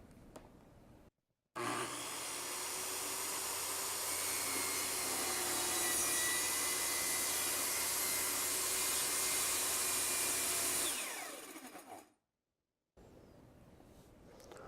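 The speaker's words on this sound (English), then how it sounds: "From there, retract your saw blade and you're ready to cut." A track saw plunges into a workpiece on its guide rail, a loud steady broadband whine and cutting roar running about ten seconds without a break before spinning down, with brief silences before and after.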